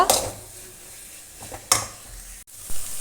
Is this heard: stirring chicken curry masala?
yes